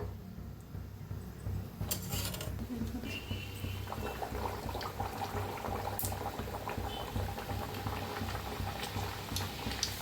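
Sweet puris made from ripe jackfruit fry in hot oil with a dense, steady bubbling sizzle that runs the whole time, close up, broken only by a couple of small clinks.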